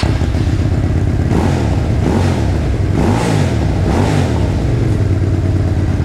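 A QJ Motor SRV300 motorcycle engine runs close and loud, with a throaty idle broken by several rhythmic throttle blips that rise and fall, and no talk over it.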